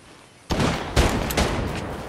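Loud, close pistol gunfire in the video game Fortnite bursts out after a quiet moment, with several sharp shots layered over a dense, rattling barrage.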